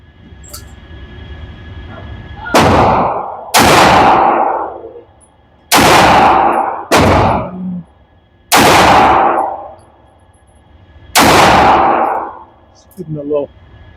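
Loud gunshots from a custom RIA Pro Match pistol at a range, six booming reports with long ringing decays, fired in an uneven rhythm, followed by a faint clatter at the end.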